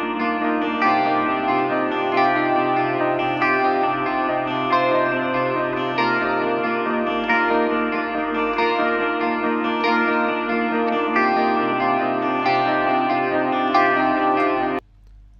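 Soloed electric guitar lead run through a compressor and effects plugins, sustained melodic notes with echo and chorus-like shimmer playing steadily for about fifteen seconds before cutting off abruptly.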